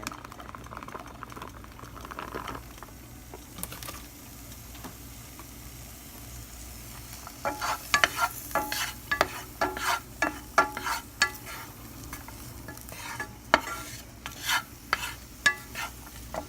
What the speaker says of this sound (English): add 2 sticks of butter to one of your frying pans. Okay, and to that butter, what you want to do is go ahead and add in some onion.